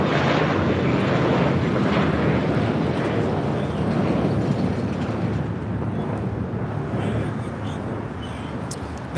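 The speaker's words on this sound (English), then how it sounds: "1672 taking off to Dallas-Fort Worth on an A321" An American Airlines A321 bound for Dallas-Fort Worth takes off at LAX with a loud, sustained roar of jet engines that slowly fades, and radio chatter may sit faintly underneath.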